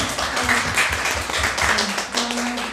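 A church congregation claps together in steady, sustained applause, a dense patter of hands with no voices standing out.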